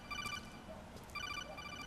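Codec call ringing in the video game Metal Gear Solid 4: two bursts of bright, repeating electronic ring tones separated by a short gap, fairly quiet and heard alone.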